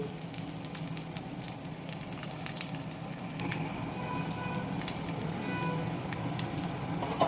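Rock amla (Indian gooseberry) pieces dropped into hot oil for a mango-style pickle, giving a steady close crackling sizzle with scattered sharp pops throughout, no talking.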